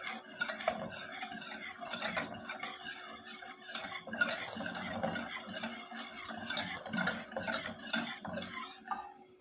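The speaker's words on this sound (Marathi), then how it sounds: "एक 5 मिनटं छान मिक्स करायचं आहे" Green pea dhokla batter is stirred and mixed in a bowl: continuous scraping and clinking of a spoon against the vessel, fairly close and rhythmic, with no talking.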